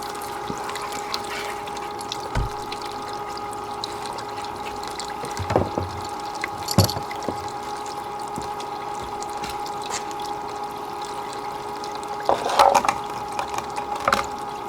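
Water rushing and trickling steadily through a gold drop five-gallon bucket system used for prospecting, with a constant pump-like hum and a few clunks along the way, no talk.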